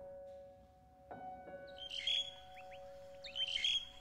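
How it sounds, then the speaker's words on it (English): A bird chirps and tweets on a university campus, with bright quick calls in two bursts over a quiet background that carries a faint steady hum. "Did you spot the bird?"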